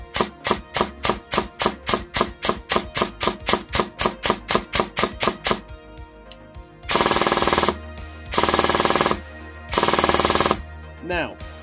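Gel blaster with a 35k Warhead motor on an 11.1 V battery, standard gear ratio, no short stroking: a rapid string of single close shots, then three long full-auto bursts, loud and without talk.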